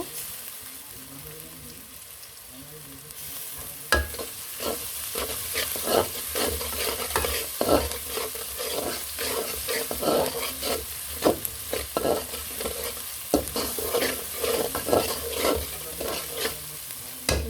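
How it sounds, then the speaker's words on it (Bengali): Chopped onion and garlic sizzle in a frying pan while a spatula stirs them, scraping and clattering in a steady irregular rhythm; the frying noise starts gently and turns louder and busier after a few seconds, with no talking. "এখন পেঁয়াজ রসুনগুলো ভালো করে কষিয়ে নিব।"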